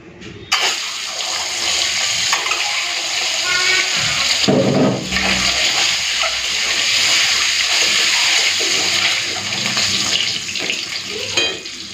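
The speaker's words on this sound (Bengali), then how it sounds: "চলো এখন ডিমগুলো ভেজে নেব" Eggs fry in hot mustard oil in a pan, giving a steady, continuous sizzle and crackle that stays loud and even throughout, with a brief louder burst partway through.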